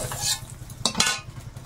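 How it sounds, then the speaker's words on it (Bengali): A fried country-hen egg is lifted out of a frying pan: two quick scraping clinks of metal against the pan over a faint sizzle, then quieter stirring taps. "ডিম ভাজা হয়ে গেছে, উঠিয়ে নিচ্ছি"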